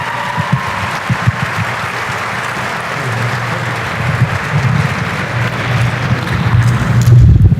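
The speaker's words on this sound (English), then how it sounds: "Please give a round of applause for Jaden." An audience claps for Jaden at a Green Scholars Chapter event of the National Society of Black Engineers, dense sustained applause that swells louder toward the end.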